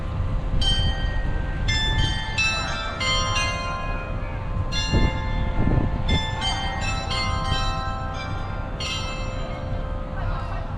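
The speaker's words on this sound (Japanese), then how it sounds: "時間になると音楽が鳴るんですよ。" A bell-like clock chime melody plays outdoors on the hour at the LeTAO main shop in Otaru, its clear notes ringing over steady street and crowd noise at a moderate distance.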